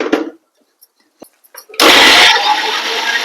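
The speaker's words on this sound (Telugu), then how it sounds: "బరకగా మిక్సీ పట్టుకున్నాం." A kitchen mixer grinder coarsely blends bottle gourd pieces with green chillies for pickle, roaring on loudly and steadily after a few soft handling knocks.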